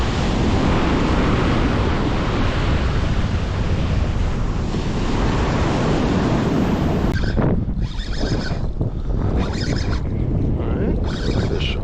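Ocean surf breaking on a Long Island beach before sunrise in October, a steady loud wash of waves with heavy wind buffeting the microphone; the roar thins after a few seconds into separate rushing surges.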